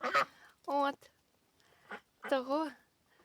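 Young ducks of different colours kept on a small poultry farm give several short, nasal honking calls close by, separated by brief pauses.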